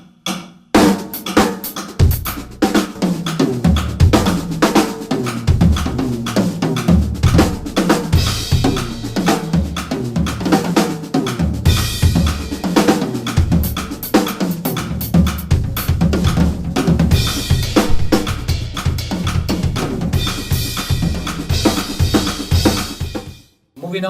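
A drum kit plays busy gospel-style sixteenth-note fills at 120 BPM: dense, continuous snare, tom and cymbal hits with kick accents, loud and close, running unbroken for over twenty seconds.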